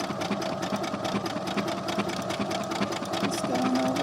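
A Brother sewing machine embroiders a few stitches over an existing zigzag stitch on a heart, humming fast and continuously at close range throughout with an even buzzing rhythm.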